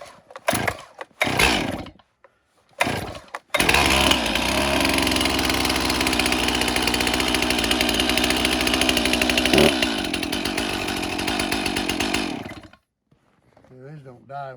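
A 50cc Stihl chainsaw with a compression release sputters through several short pull-start bursts, then catches and runs loud and steady at close range before shutting off, leaving quiet handling noises.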